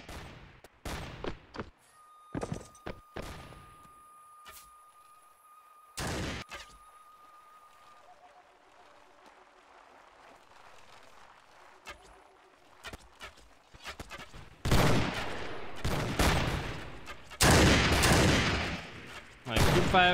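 Musket volleys from a Japanese-themed medieval battle game, scattered sharp cracks early, then a quiet stretch before a dense, rolling mass of gunfire dominates the final seconds, with faint hooves and voices in between.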